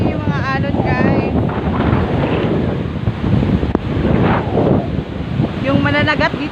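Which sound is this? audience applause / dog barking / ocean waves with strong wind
ocean waves with strong wind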